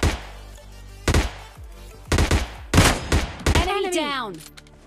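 Gunfire in the battle royale game PUBG Lite, several sharp bursts of shots in quick clusters, loud and close, followed by ringing, whooshing effects near the end.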